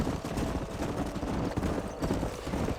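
Horses trotting in the video game Red Dead Redemption, a dense, continuous clatter of hooves from several animals being driven along, loud and steady with no pauses.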